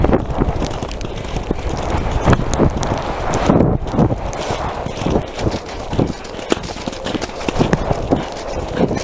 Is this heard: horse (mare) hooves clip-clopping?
yes